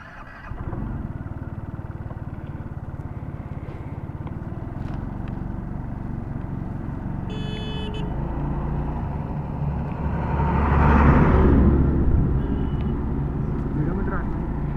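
An Aprilia SXR160 scooter engine starts, then hums steadily on the road before swelling into a louder rev as it accelerates around the middle, close and continuous, with a voice talking over it.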